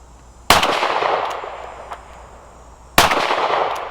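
Two sharp gunshots from a Ruger LCR .22 Mag revolver about two and a half seconds apart, each a loud crack with a lingering outdoor echo, no talk between them.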